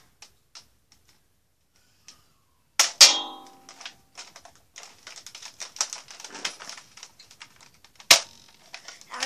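Nerf Zombie Strike Bowstrike toy blaster fires foam darts in a few sharp, separate snaps with mechanical clicks and rattles between them, close and moderately loud, with no talking.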